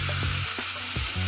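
Ground beef crackling in a hot pan with chopped onion and garlic, a steady bright sizzle broken by a few low thumps and scrapes as the meat is stirred and broken up, heard close with no talking.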